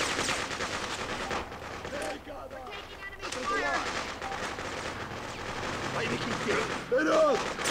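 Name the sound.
gunfire in the Freedom Fighters video game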